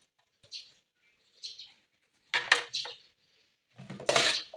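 Minced pork larb with chopped spring onion being stirred in a pan, short scraping and clinking bursts of utensil against cookware in a few separated strokes, the last ones louder and longer, with no talking.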